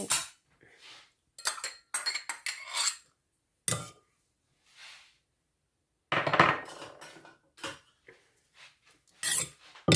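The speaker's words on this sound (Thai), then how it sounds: "ใส่พริกกระเทียมหอม ลงไปพร้อมกันนะคะ ไปโขลกเพื่อไปโข" Chili, garlic and shallots pounded together in a mortar for a spicy Thai chili dip, heard as irregular bursts of dull knocks and gritty grinding separated by short pauses, close and fairly loud with no talking.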